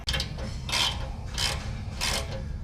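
Bolts on a Polaris Ranger 1000 rear bumper being tightened with a ratchet, giving three rasping bursts of clicking at a steady pace, close and clear, with no talk.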